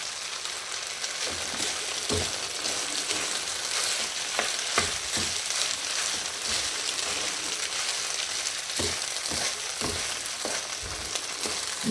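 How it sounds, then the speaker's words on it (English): Turmeric coconut rice sizzles and fries steadily in a pan, with irregular scraping clicks as it is tossed and stirred throughout. "we're going to just continue tossing the rice. We're doing, for now, sort of a fried rice effect"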